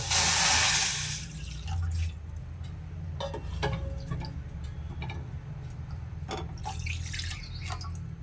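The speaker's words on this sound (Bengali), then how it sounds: "এই কাপের মাপ করে 3 কাপ দুধ কড়াইয়ে দিয়ে দিচ্ছি।" Three cups of milk poured into a small wok on a lit gas stove: a loud splashing gush for about a second, then a quieter liquid trickle and a few drips over a steady low burner hum.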